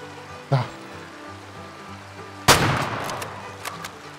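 Two sharp shotgun blasts ring out while hunting pheasant in the game Way of the Hunter, a fainter shot followed by a louder, booming one with a trailing echo, close and distinct.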